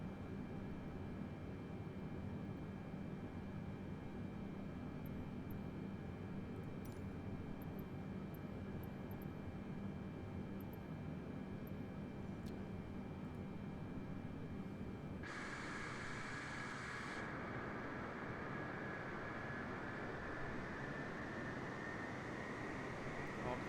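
An aircraft taxis in a flight simulator game, with a steady broadband engine drone throughout and a brief higher whine that swells partway through before settling back to the constant hum.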